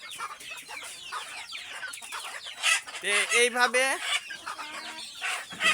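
Several healthy native country chickens and a rooster cluck and squawk close by in a busy, overlapping chorus, with a brief spoken phrase near the end.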